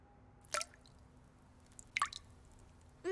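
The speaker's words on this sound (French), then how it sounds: "le robinet coule" A leaky faucet drips, three distinct, close, quiet drops falling a second or more apart over a near-silent room.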